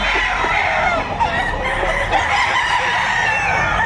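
Roosters crow repeatedly among clucking fowl at the Padre Garcia livestock auction market in Batangas, a dense, continuous din of overlapping calls close by, with faint crowd murmur underneath.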